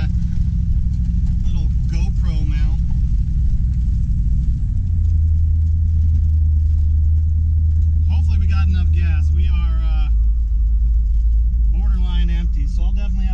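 The 1970 Chevy Suburban's engine drones low and steady while climbing a hill, with a deep rumble that shifts pitch partway through and someone talking over it at intervals.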